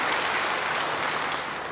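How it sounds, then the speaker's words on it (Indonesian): A church congregation applauds after a baptism, a dense, steady wash of clapping from many hands that fills the short moment without speech. "Beri tepuk tangan buat dia."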